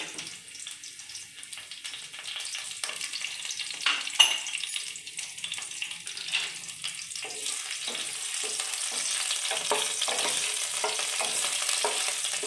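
Garlic frying in hot oil for white sauce pasta, a bright crackling sizzle that swells and grows busier over several seconds, with occasional stirring knocks and no speech.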